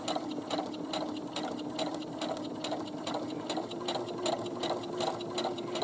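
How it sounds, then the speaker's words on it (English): A sewing machine stitches along the edge of a patch pocket in a steady, fast, rhythmic clatter of needle strokes. It runs continuously, close and clear, with no talk. "I always hold the threads when I'm going forward, just the first few stitches, and then I'm stitching right along that edge"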